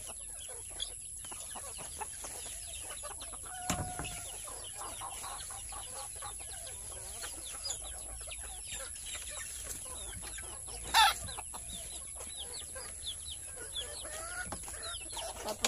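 Small chicks and young chickens cluck and peep steadily at morning feeding on a rural farm, a busy flock of many soft, scattered calls with a few louder squawks close by, under faint background noise.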